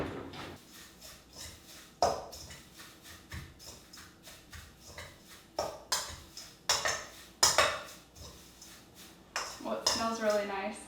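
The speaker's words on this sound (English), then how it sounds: "now let me just get a spoon to mix these together" A spoon mixing dried floral mint tea ingredients, producing a series of light clinks and scraping taps against a container, irregular and close, with a voice talking now and then.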